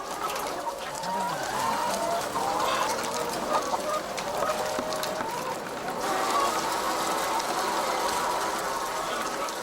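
Crowded battery cages of laying hens on an egg farm, clucking and squawking layered over whirring, ratcheting machinery, with a continuous dense din and a brief voice in the background.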